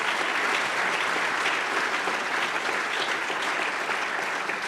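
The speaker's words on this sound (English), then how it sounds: "Please give yourself a round of applause." Audience applause at the Generations Toronto inauguration ceremony, a sustained, even wash of many hands clapping with no break.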